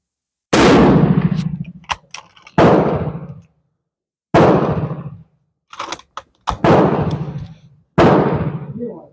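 An Arisaka Type 38 rifle in 6.5x50 fires four loud, sharp shots, spaced a couple of seconds apart, each with a short echoing decay, with clicks and clacks of the bolt being worked between shots.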